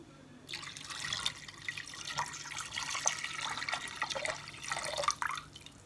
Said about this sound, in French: On va ajouter de l'eau froide.